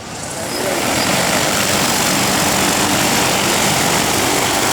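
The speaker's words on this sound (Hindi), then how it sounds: "और आप देख सकते हैं ये दूसरा ड्रोन है" Drone flying during a fisheries and aquaculture demonstration at Gyan Bhawan, a loud steady whirring buzz that swells in over the first second and then holds constant and near, without voices.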